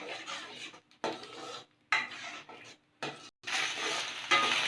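Three eggs frying in a pan for egg fried rice, a crackling sizzle in several loud bursts separated by short silent gaps, with scraping and stirring against the pan and no talking.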